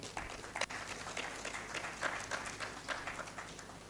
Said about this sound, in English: With a round of applause, let's welcome him.